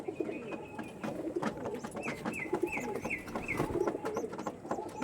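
Andhra tournament-quality pigeons kept for sale coo over and over at close range, soft rolling calls repeating through the whole stretch amid light rustling and other bird sounds, with no talking.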